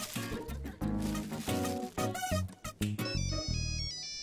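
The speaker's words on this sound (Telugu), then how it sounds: "అటెండ్ చేయండి మేడం, అటెండ్ చేయండి. ఫోన్ మీకే వచ్చింది." Mobile phone ringtone playing a bright melodic tune in short repeated bursts with brief gaps, clear and fairly close, with little else around it.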